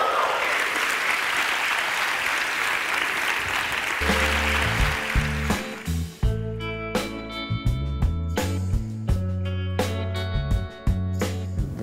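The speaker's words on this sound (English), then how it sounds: "Let's hear it for Mark, please, everybody." A TV talent show audience applauds loudly and steadily, with a dense wash of clapping at first that gives way to music with sharp beats over continuing cheers.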